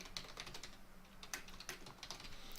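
A computer keyboard clicks under quick, irregular keystrokes as a comment is typed into Moodle marking software, close and fairly quiet, with no voices.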